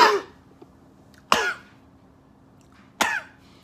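Three separate sharp, fairly loud human coughs, evenly spaced about one and a half seconds apart, each a short rough burst over a quiet room background, with no talking.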